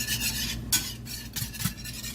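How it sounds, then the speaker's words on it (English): A whisk working lemon dill butter sauce in a pan, heard as close, steady rhythmic scraping and swishing with a few brighter strokes, no voices. "And we're going to whisk everybody in."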